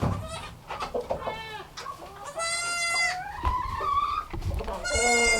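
Newborn baby goats bleat repeatedly in a barn, with several overlapping high, wavering cries close by, mixed with clucking chickens in the background.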